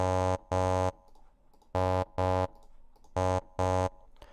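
Synthesized voice sustaining an "ah" vowel with two extra high formants added, heard as six short tones in three pairs, each pair about half a second apart with gaps between, clear and alone.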